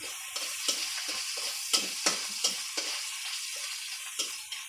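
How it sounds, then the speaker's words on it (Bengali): Garlic frying in hot oil, with a steady soft sizzle and irregular crisp clicks and taps from stirring, close and moderately quiet, with no voices. "একটু লাল করে ভাজে নিই।"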